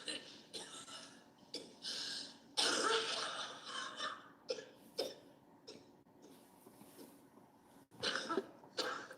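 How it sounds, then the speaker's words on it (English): A woman coughs repeatedly in irregular, raspy bursts, some harsh and throaty and others quieter with breaths between them, fairly close and alone. "She's coughing up blood"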